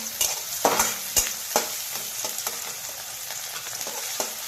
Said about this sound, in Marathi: याला हलवून घ्यायचं आहे याच्यामध्ये मोहरी टाकायची आणि जिरी सुद्धा